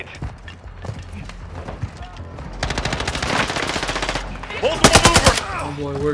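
Rapid bursts of battle rifle fire from a TAQ-V in a first-person shooter video game, loud repeated volleys in two clusters with short gaps, heard alongside game effects and faint background sounds.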